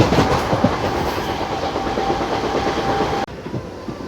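The Jalandhar–Ambala DMU train 74646 runs on rails in the early morning with a steady clickety-clack and rumble close by, then cuts suddenly quieter near the end.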